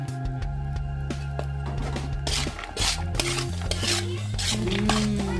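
Roasted peanuts are stirred into churumuri masala in a metal bowl or pan, with steady rhythmic scraping and clinking of a spoon against metal, close and fairly loud, bursts of rattling toward the end, no talking.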